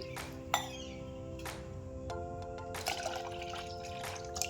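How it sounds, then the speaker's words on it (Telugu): Buttermilk poured into a bowl while preparing ambali, a soft liquid trickle and a few drips with small ringing clinks, faint and steady with no voices. "ఆ మజ్జిగని ఇందులోకి వేస్తున్నాము"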